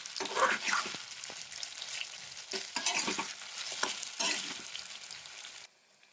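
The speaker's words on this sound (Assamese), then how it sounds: "এতিয়া অলপ দেৰি মই ফ্ৰাই কৰিম।" Chicken pieces fry in a pan for chicken korma, a loud, close sizzle broken by repeated bursts of stirring and scraping, fading abruptly at the end with no voices.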